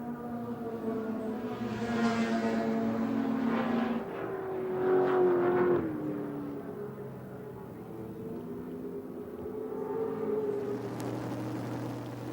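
A race car engine drones down the straight at Adelaide International Raceway in 1981, revving and shifting in sustained pitch sweeps, moderately loud from onboard, with no speech.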